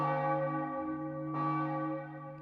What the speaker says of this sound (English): A bell chimed.